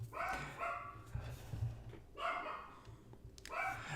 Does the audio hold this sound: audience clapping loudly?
no